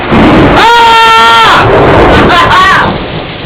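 Heavy rain mixed with hail pours down loudly, a dense roar under a voice that speaks briefly over it close up.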